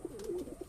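A short, soft pigeon coo from inside a pigeon loft, one low rolling call heard faintly and alone.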